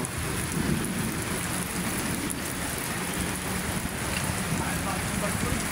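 Steady heavy rain pours down continuously at Manila Bay, a dense hiss of drops on surfaces with low rumbling underneath and no break.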